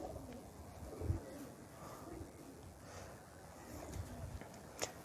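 Soft, low pigeon coos rise a couple of times over a constant murmur of background noise, with a brief sharper sound near the end, from a keeper's flight pigeons.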